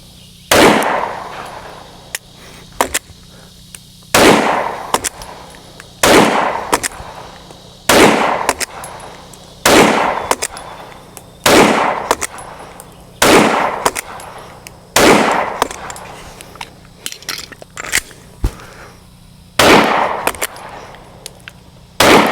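Pistol fired with a Trijicon RMRcc sight during a torture test: sharp, loud gunshots, single or in quick pairs, repeat through the stretch with short gaps between, close and unaccompanied by speech.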